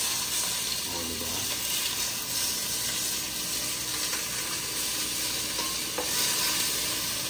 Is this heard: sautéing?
yes